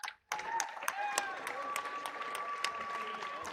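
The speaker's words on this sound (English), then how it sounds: "Round of applause for both of these players here." An audience at the Classic Tetris World Championship breaks into applause after a match, a steady patter of clapping with sharper individual claps, moderately loud, with a commentator talking over it.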